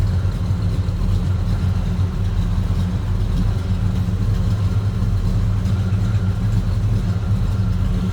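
A 1965 Chevrolet Malibu Sport Coupe's 327 small-block V8 idles with a steady, low, continuous rumble, close and even throughout, with no talk over it.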